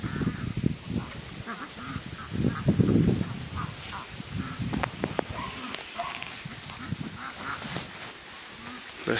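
Ducks on a small farm with running water nearby, quacking repeatedly at close range in irregular bursts, mixed with a person talking.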